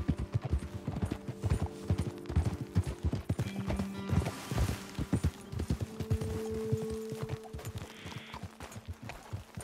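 Horses' hooves clip-clop steadily on a trail in Red Dead Redemption 2, a close, continuous run of rhythmic hoofbeats with a brief snort and tack jingle.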